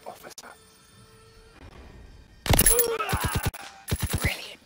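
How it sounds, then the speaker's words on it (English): Gunfire aimed at an enemy officer in Call of Duty: WWII, a short burst of sharp shots in quick succession breaking out loudly after quieter ambience and a few soft sounds. "Shoot the officer."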